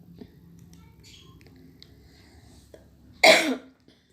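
A single sharp cough bursts out close by after a quiet stretch with faint background murmur.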